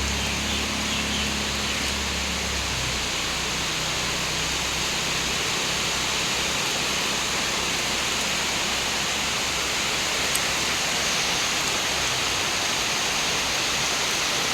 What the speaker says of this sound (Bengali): জোরদার বৃষ্টি শুরু হয়ে গেছে